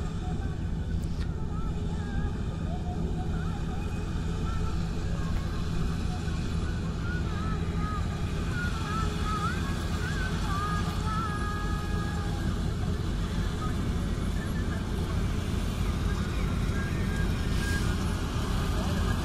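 A combine harvester engine runs continuously, a steady loud mechanical drone throughout, with people talking over it.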